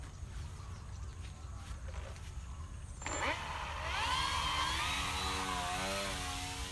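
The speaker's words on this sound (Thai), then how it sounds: "พอจะถึงพื้นเนี่ยเราจะดึงเยอะหน่อยเครื่องบินก็จะกระตกหัวขึ้น แล้วก็ หมดแรงลงอยู่กับพื้นอ่ะมาดูกันครับ" Radio-controlled 3D model airplane with a small electric motor whining and sweeping in pitch as it flies, rising sharply and growing louder partway through, over steady low background rumble.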